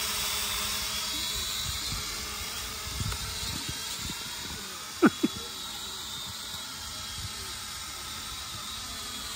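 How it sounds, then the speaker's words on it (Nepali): A drone hums in a faint, steady high-pitched whine that carries on throughout, broken only by a couple of brief knocks near the middle. "ड्रोन उडिरहेको छ"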